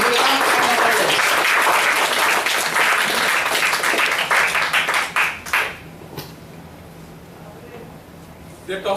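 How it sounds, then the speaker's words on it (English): Loud applause from a Toastmasters workshop audience welcoming a speaker, dense and even at first, then breaking into scattered claps and dying away, leaving a quieter room with faint noise at the end. "Let us welcome him to the round of applause"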